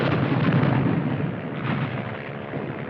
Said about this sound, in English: Piper Cup's calling the shots for artillery.